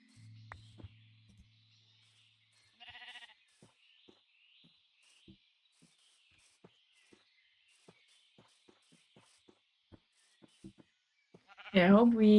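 Minecraft sheep bleat in a loud harmonic burst near the end, with a shorter bleat earlier, over sparse soft clicks and taps from the game.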